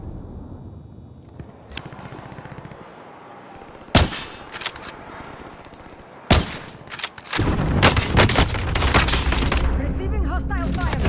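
Call of Duty: Warzone gunfire, using the Type 63 rifle, comes as loud sudden bursts and a sustained rattle of shots, with game voice callouts and busy battlefield noise.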